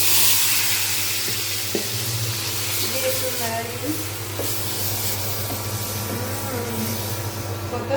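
Red lentils hitting hot oil with fried onion, garlic and five-spice tempering in a village kitchen, giving a steady close sizzle and hiss throughout, with a voice speaking briefly over the frying and a stirring clatter.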